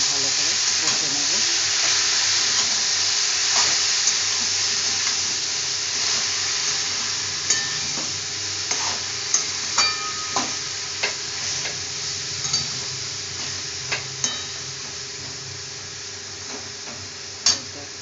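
Boiled chickpeas and cabbage sauté in a pan with a steady sizzle, broken by sharp clicks and scrapes of a spoon stirring at a moderate, uneven pace; close and continuous, with no voices.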